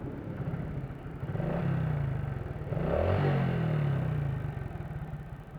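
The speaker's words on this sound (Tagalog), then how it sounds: "Iingay yung makina ko ah." A Honda XRM 125 motorcycle engine idling noisily with a steady low rumble and rapid ticking clatter from the valves, swelling slightly in pitch twice as it revs, heard close with no talk.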